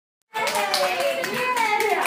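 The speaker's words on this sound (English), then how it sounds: "You clap." A small child clapping hands at a first birthday gathering, quick bright claps that begin abruptly after a moment of silence, with adults' voices and chatter mixed underneath.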